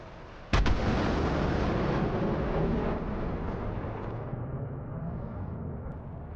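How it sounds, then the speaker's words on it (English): Missile blast close to an aircraft's fuselage in a Cold War era air combat game: one sharp, loud detonation followed by a long rumbling roar that slowly fades. "One missile exploded very close to his fuselage."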